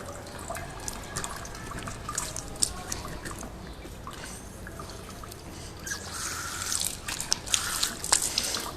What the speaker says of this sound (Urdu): پھر ہم نے پاؤں دھونا ہے.